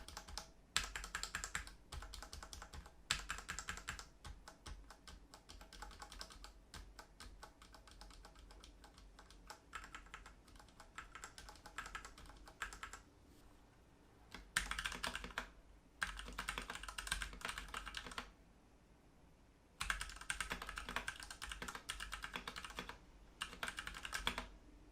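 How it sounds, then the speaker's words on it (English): Rapid typing on a white Ducky One2 Mini mechanical keyboard, dense bursts of close clicking keystrokes separated by brief pauses, no talking. "helps dampen the sound that your keyboard makes"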